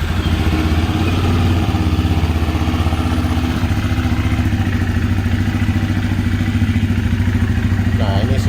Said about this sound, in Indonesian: Ya, suara mesin dari Benelli Imperial.